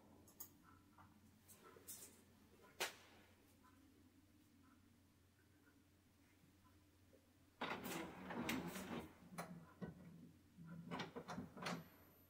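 An Epson ET-8550 printer, loaded with paper and switched off, powers up to print: a quiet stretch with faint clicks gives way to a burst of mechanical whirring, clunks and rattles in the second half.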